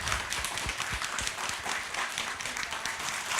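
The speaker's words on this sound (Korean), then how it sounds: "큰 박수 부탁드립니다." An audience at a Buddhist welfare center event gives a round of applause, a dense wash of many hands clapping continuously at moderate loudness for the whole stretch.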